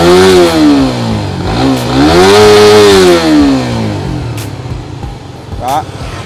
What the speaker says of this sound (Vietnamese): Tiếng máy nè.